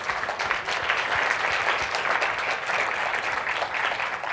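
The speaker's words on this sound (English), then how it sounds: "So big round of applause for them." Steady, dense applause from a tech conference audience thanking the camera and audio crew, sustained clapping throughout without voices on top.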